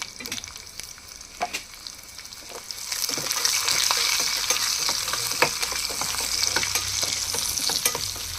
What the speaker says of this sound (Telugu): ఫ్లేమ్ తగ్గించి నిదానంగా వేగించాలి